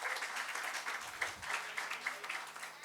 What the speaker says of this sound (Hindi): आपकी तालियां खामोश नहीं रहनी चाहिए